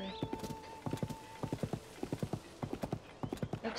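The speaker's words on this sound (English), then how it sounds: "Oh, there's horses." Horses in the video game Zelda: Tears of the Kingdom, with steady clip-clop hoofbeats in quick repeated bursts and a brief whinny near the start, fairly close and clear with no talk over them.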